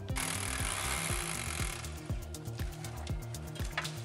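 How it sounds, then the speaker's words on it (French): A hammer drill bores into a masonry wall through pre-drilled holes in a wooden turret fascia, giving a loud, close, rapid pounding that runs steadily throughout with a high whine at first. "on perce dans le mur à travers les trous"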